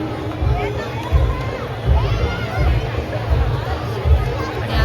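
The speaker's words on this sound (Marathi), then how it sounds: "बाकी गर्दी बघून घ्या" Crowd at the Versova Koli seafood festival in 2026, a steady outdoor hubbub of many overlapping voices with chatter and occasional shouts rising and falling throughout.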